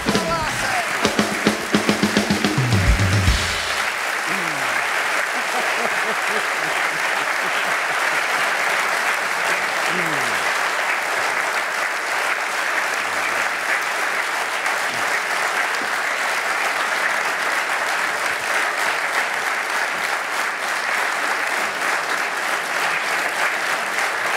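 Studio audience at a Czech TV talk show applauding loudly and steadily for over twenty seconds, dense clapping that holds at an even level throughout, with a few brief voices heard in the first seconds.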